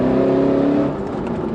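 A Walkinshaw Performance VXR8 engine revs loudly and close, a deep throaty drone that holds steady before easing off slightly near the end, with no talking.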